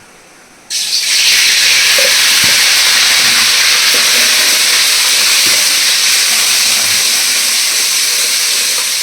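Masala with ginger garlic paste hits a hot pan and bursts into a loud, close, continuous sizzling hiss that holds steady for several seconds, with a few faint clinks underneath.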